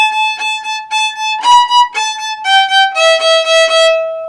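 Violin plays a rapid run of even sixteenth notes on a bright, sustained pitch, stepping down through a few notes across one measure, loud and close with no voices.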